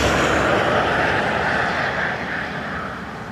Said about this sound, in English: So ATR from Rennes, another long flight.